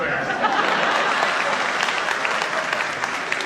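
Steady audience applause from a crowd at an event, dense clapping holding at a constant level throughout without any talk over it.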